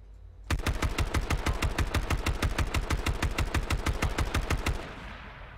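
Automatic gunfire in the H1Z1 video game: a loud, steady burst of rapid shots lasting about four seconds at an even machine-gun rhythm, then a short fading tail, with no voices over it.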